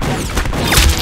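Sharp crack of a gunshot landing a headshot in Roblox Arsenal, a brief, loud, close burst with a quick crashing impact and game effects over about a second.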